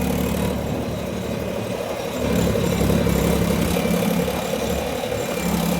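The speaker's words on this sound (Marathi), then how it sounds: "तर 2 ट्रॅक्टर घेऊन आम्ही चाललोय" Two tractors driving along a road on the way to load cow-dung manure, giving a steady loud engine rumble that runs continuously and swells slightly partway through, with no talk over it.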